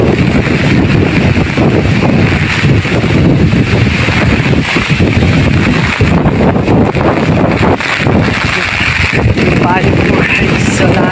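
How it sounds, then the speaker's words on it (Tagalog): Powerful typhoon wind under signal number 4 roars without pause, a dense, loud rushing that batters the microphone for the whole stretch. "Sobrang lakas ng hangin."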